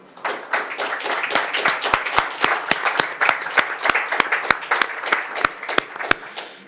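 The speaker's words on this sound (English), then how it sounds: "it's worth a big round of applause for Can." Applause and rhythmic clapping from the audience at a DTM press conference for the 2025 champion at the Hockenheim season finale, a steady, lively round of hand claps with a few sharp individual claps standing out, no talking.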